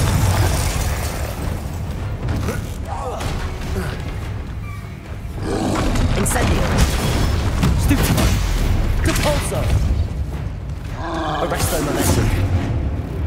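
A Confringo fire spell explodes in the Hogwarts Legacy video game, a loud booming blast amid continuous roaring battle effects and game music, with a player calling out spells throughout.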